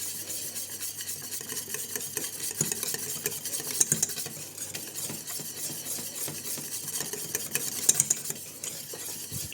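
A spoon keeps stirring a thickening chocolate and orange mixture in a hot pot, making steady scraping strokes with a light bubbling sizzle and occasional sharp clicks against the rim.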